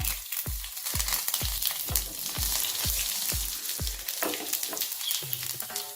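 Cumin seeds and garlic fry in hot oil with mustard seeds, making a loud, dense crackling sizzle, steady throughout, with a regular low thudding beat underneath, no voices.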